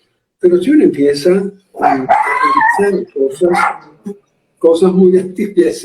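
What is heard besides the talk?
dog barking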